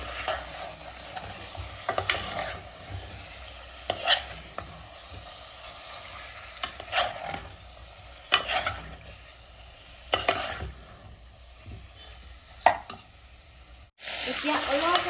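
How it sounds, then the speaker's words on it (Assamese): Chicken and tomato frying in a pan, stirred with a utensil: steady close sizzle with a scrape or clatter roughly every two seconds, ending in a brief silence and then a louder burst of frying. "এতিয়া অলপ সময় এনেকৈ লাৰিম"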